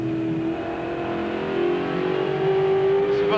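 A race car engine at the 1995 Bathurst 1000 drones steadily up close, its pitch holding and shifting slightly as it comes down to third gear, loud and continuous without any talking.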